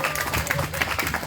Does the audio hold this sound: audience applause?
yes